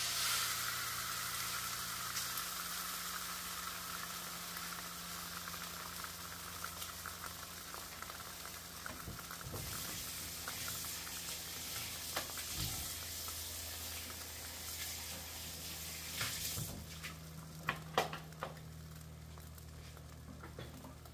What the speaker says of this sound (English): we're going to let these eggs cook out, because this middle is already cooking.